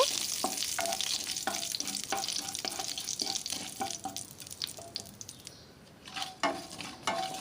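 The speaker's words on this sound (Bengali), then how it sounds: "আর তাতে দিয়ে দিলাম একটু সর্ষে আর দিলাম একটু মৌরি ফোড়নটাকে একটু ভেজে নেব" Mustard and fennel seeds sizzle in hot oil as a tempering for a raw mango chutney, with repeated scraping stirs of a spoon against the pan and soft crackling throughout, close and moderately quiet.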